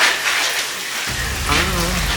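Rain falls steadily and close in a constant pattering hiss, and a low rumble joins it midway. Faint voice-like tones sit underneath.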